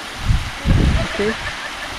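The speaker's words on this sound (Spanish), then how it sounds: "por aquí se ve la cascada chiquita, la cascada grande, perdón. Aquí se viene un arroyito, baja aquí en otra cascadita" A small waterfall and stream at Rancho Sol de Mayo in Los Cabos give a steady, fairly close rush of flowing water, with someone talking over it.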